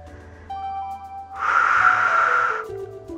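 One strong breath pushed out for about a second during a Pilates workout, loud and close over faint background music with a steady hum.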